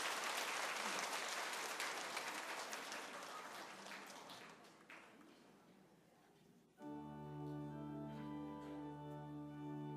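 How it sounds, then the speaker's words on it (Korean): A church congregation at a Sunday service giving blessing applause after an infant baptism, a broad wash of clapping that fades over several seconds before organ or keyboard music swells in. "크게 축복의 박수 해주시기 바랍니다."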